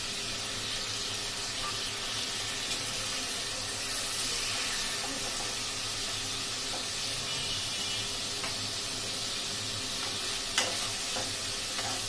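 Hilsa fish frying in a pan, a steady soft sizzle with faint stirring and scraping, moderately quiet and continuous with no talking.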